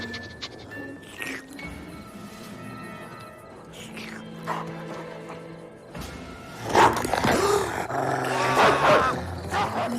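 A cartoon dog growls and barks in bursts, with whimpers and yips mixed in and animated voices speaking over it, the noise growing louder toward the end.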